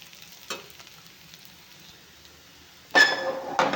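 Stuffed bitter gourd frying in a pan, a low sizzle with a brief scrape early on, then a louder burst of stirring and sizzling near the end, close up and without talk.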